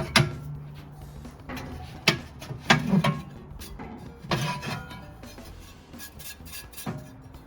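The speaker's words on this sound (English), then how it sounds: "So first we'll remove the internals." Metal and ceramic internals are lifted out of a Kamado Joe grill outdoors, producing a run of close clanks, scrapes and knocking thuds at an uneven pace.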